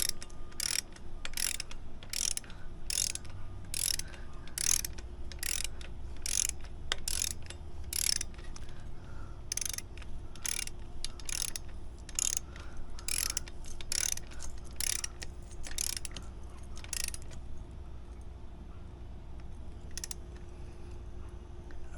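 A torque wrench ratchets while tightening a front guard bolt on a GasGas motorcycle, producing a long run of quick, evenly spaced clicks that pause briefly and then resume, fairly close and loud, with no one speaking.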